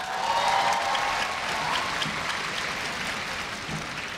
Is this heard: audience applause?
yes